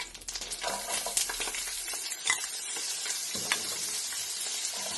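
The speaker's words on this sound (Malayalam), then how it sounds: "അതിലേക്ക് നമുക്ക് ഈ അരിഞ്ഞ് വെച്ച സവാളയും പച്ചമുളകും ഇട്ടിട്ട്" Onions and green chillies drop into hot oil with curry leaves, setting off a loud, steady sizzle with a few stirring scrapes near the start, continuous and close for the whole stretch with no talking.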